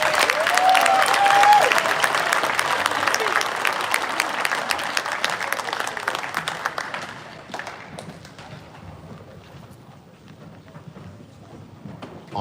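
Applause from an audience at a cadet leadership award ceremony for next year's class leaders, loud and dense at first, then thinning out and fading to scattered claps.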